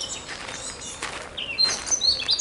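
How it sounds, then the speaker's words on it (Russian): Birds chirp and sing in a botanical garden, bright tweets rising over a soft outdoor hush, a few louder calls coming close near the end. "Птички поют."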